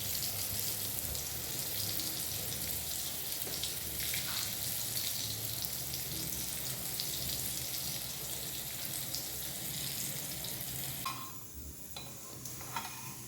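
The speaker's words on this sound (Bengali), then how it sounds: "গরম জল বসিয়ে দিয়েছি, তার মধ্যে এঁচোড়টা দিয়ে দিলাম।" Young jackfruit boiling in a pot of hot water with a little turmeric, a steady bubbling, hissing wash that holds evenly throughout before briefly thinning near the end, with no voices.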